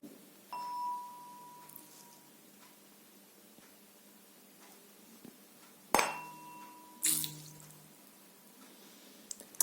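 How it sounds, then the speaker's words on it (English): Vibrating tuning fork, a clear metallic ring near the start, then two sudden close splashy bursts as its tine touches water, with faint dripping and quiet pauses in between. "the splash of water that was formed during when this tine was made to touch with the surface of water"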